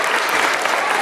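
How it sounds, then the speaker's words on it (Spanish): Loud, dense applause from an audience at a community event in Orocovis, a steady wash of many hands clapping close by and sustained without a break. "Fuerte aplauso."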